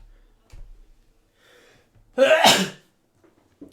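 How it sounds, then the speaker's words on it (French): A few quiet breaths, then one loud, sharp sneeze close by, followed by a brief soft sniff. "Attends, je vais éternuer."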